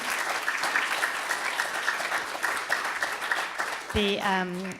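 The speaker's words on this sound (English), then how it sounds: "can we do a round of applause for Sharon and her staff that have done such a fantastic idea?" An audience at a showcase event applauds Sharon and her staff, a sustained patter of clapping that continues steadily, with a voice and a musical tone coming in near the end.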